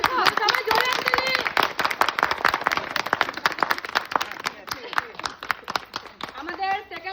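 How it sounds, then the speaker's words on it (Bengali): An audience claps for prize winners at a gathering, steady scattered applause running throughout while voices talk over it. "সবাই জোরে হাততালি।"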